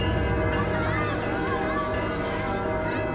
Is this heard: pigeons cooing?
no